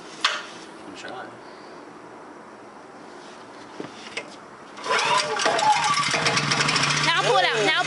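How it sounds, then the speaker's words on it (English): Rented generator engine being pull-started: after quiet background with a few clicks, a rough mechanical rattling burst kicks in loudly and runs to the end while voices talk over it. "have to buy a generator and rent one, and then try to start it"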